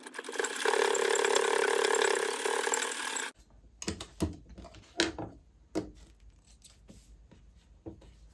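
A sewing machine running a double stitch on cloth hums steadily for about three seconds, then stops, followed by scattered mechanical clicks and taps, with no voices.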